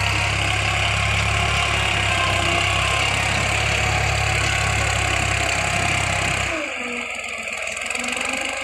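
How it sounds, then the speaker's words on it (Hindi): A heavy New Holland 3630 tractor engine drones steadily and loudly under load, then drops abruptly to a lower, rougher idle near the end. "देखें भाई ट्रैक्टर लोड नहीं मानता।"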